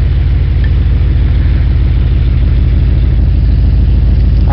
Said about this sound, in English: put the hood down, you can hear the car running.